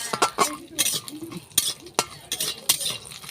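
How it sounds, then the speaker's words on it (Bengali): Lentil dumplings (bori) fry in a pan, a soft sizzle under frequent scraping and clinking as a utensil stirs them against the metal, up close. "বড়িগুলো আগে ভেজে নিই"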